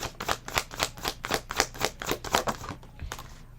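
A deck of tarot cards is shuffled by hand in quick repeated riffles, about a dozen crisp, papery bursts in steady rhythm, close and fairly quiet.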